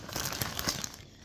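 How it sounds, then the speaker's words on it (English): Close crinkling and rustling of a plastic shopping bag from a beauty store haul, a short handled burst with no talking. "The rustling of the bag on camera is not cool."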